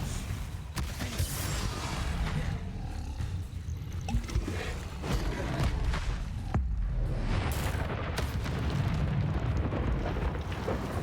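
Confringo fire spell blasts in Hogwarts Legacy during a dragon-defending fight, a dense, loud stretch of repeated bursts and crackling impacts over a continuous roaring rumble.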